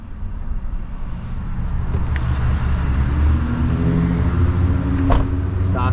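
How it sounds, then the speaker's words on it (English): A stock S650 Mustang GT V8 with the carbon traps removed and an H-pipe exhaust rumbles steadily up close, with droning exhaust tones swelling toward the end. "This is a stock S650 Mustang GT with just the carbon traps removed."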